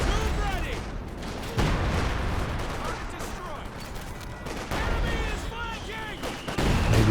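Howitzer artillery barrage in the game Company of Heroes 2, with repeated heavy booms and blasts running continuously at mid distance, fairly loud and dense, with a few sharper impacts standing out.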